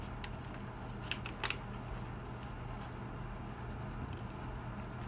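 Paper folded for an origami dragon gives soft, close crinkles and a few brief crisp creases in a quiet room, with no talking.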